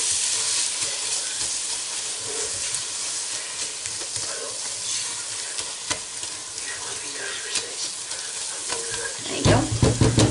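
Cumin and paprika fry in a pot for chilli con carne, a dense sizzle with a few spoon knocks, then a louder clatter of stirring near the end, close by without speech.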